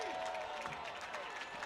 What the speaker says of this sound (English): Crowd getting to their feet, making some noise.